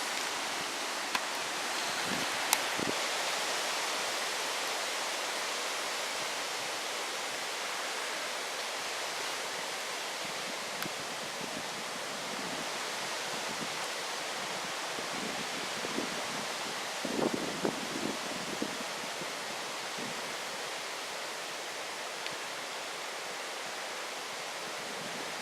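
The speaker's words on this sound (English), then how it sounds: "It's bloody windy though." Broadband wind roars steadily at an outdoor camp in the dark, buffeting the microphone, with occasional faint rustles and knocks underneath.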